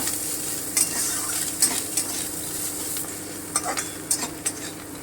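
Pointed gourd peels fry in a pan while a utensil stirs them, giving a steady close sizzle punctuated by several sharp scraping clinks against the metal.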